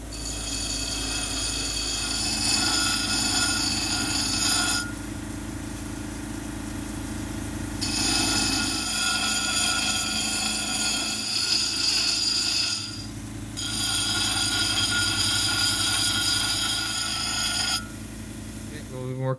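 A lapidary grinding wheel grinds the husk off a Lake Superior agate, a steady loud whirring hum with a bright high whine that drops out and returns in long sections as the stone is lifted and pressed back.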